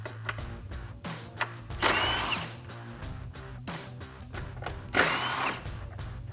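A power tool spins out 10mm headlight bolts on a 2015-2017 Ford F-150, whirring in short bursts with ratcheting clicks and two louder rattling surges, close and clear.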